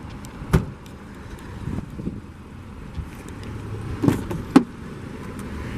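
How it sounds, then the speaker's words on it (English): The power trunk of a 2014 BMW 328i xDrive Gran Turismo closes with a quiet whirr and several sharp clunks, the last two close together near the end as it latches. "If you press that, it will close the trunk and then lock the vehicle."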